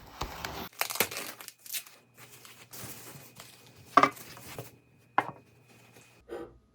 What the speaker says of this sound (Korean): 이거 아까 사온 거좀 뜯어봐야겠어요.